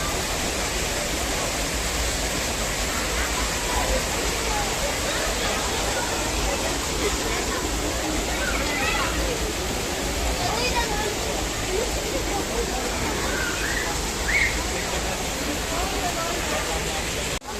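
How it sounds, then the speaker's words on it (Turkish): Cazılar creek near Yomra, Trabzon, rushing over rocks: a dense, constant roar of flowing water fills the whole stretch at steady loudness, close by and unbroken. "Şöyle dere atıyor."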